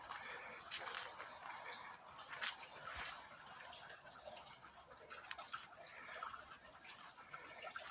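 Spring water, the Naftusya mineral water of Boryslav, trickles steadily from a forest spring, a soft continuous wash with a few brief splashy bursts, faint and unbroken throughout.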